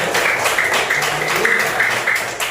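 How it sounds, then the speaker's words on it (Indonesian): A classroom of students claps together for classmates who answered questions, a steady, fairly loud run of rhythmic clapping close by with faint voices beneath. "tepuk tangan dulu buat semua yang sudah jawab"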